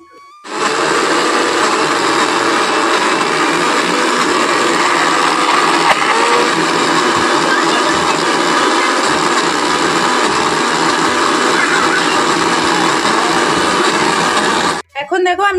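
Mixer grinder blending chana dal and banana filling into paste, a loud steady whir that starts abruptly, runs continuously for about fourteen seconds, then cuts off.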